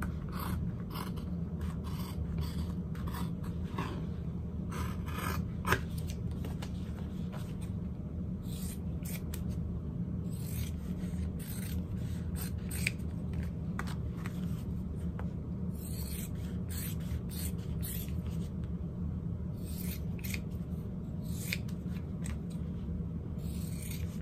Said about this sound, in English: I'll cut these out.